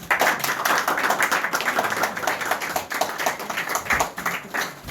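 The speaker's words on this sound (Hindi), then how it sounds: "तालियां।" Crowd applause at a cricket kit award ceremony held at a residence, a dense patter of many hands clapping steadily and close for several seconds.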